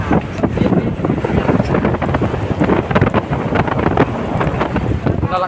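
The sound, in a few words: strong amihan monsoon wind at sea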